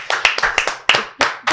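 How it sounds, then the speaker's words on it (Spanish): Sharp individual hand claps ring out close by in a halting, uneven rhythm, about seven or eight distinct slaps spread across a moment during a Christian podcast conversation. "vamos a hacer ese aplauso."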